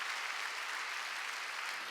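A church congregation claps together in a brief, dense burst of applause, steady and even from start to finish with no voices over it.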